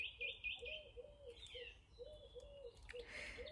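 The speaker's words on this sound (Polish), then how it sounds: "Ptaszki pięknie śpiewają." Birds call outdoors in a quiet setting, with repeated short chirps and a soft cooing rhythm in the background.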